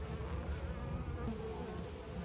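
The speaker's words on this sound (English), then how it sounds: "Oh no, go away, bee. Get out of here." A honeybee buzzes close by while a beekeeper inspects a hive frame of diseased brood on a hot day, a steady droning hum that persists throughout.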